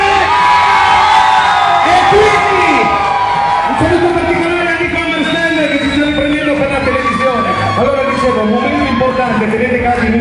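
A live crowd at a disco party yells, whoops and cheers loudly and continuously, a dense roar of many voices filling the room throughout.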